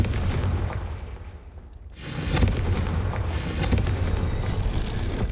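A fiery blast cast in Hogwarts Legacy booms across a busy game soundscape, with a loud sustained roar that dips briefly, then surges back in a rolling, crackling wave of explosive noise, no voices heard.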